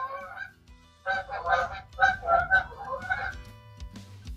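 Several geese honk in a close, loud burst of repeated nasal calls, overlapping in a ragged run before tapering off.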